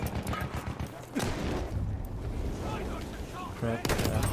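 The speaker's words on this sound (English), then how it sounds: "Enemy machine gun!" Gunfire in the Battlefield 1 multiplayer shooter, with an enemy machine gun among loud, dense bursts and booming shots over a constant battle din, with a player's voice briefly heard.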